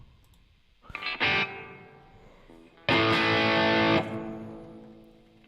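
Doomy, heavily distorted electric guitar riff played through effects: two loud chord bursts with a pause between them, each ringing out thick and sustained before fading.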